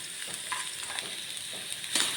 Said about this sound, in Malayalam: ഉള്ളി നല്ല മുരിഞ്ഞ് വരുന്നുണ്ട്